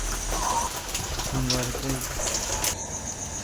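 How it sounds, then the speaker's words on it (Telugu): Heavy rain pours down as a steady, even hiss, with a faint voice and a few soft knocks underneath. "పొట్టు వర్షం పడుతుంది"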